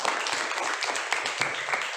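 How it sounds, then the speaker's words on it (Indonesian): A class of schoolchildren clap their hands together in a steady, continuous patter that fills the room at moderate loudness, with a few sharper claps standing out. "Tepuk tangan dulu buat kita semua."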